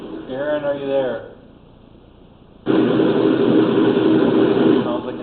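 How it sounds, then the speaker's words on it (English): Steady airplane engine roar breaking in over a remote school board meeting call, loud broadband drone that cuts out briefly after a voice, then returns strongly and holds to the end. "Sounds like an airplane."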